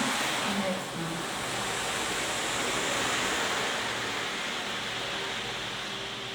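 Ocean waves in a continuous, even wash of surf, steady and fairly loud with a slight swell and fade, heard alone.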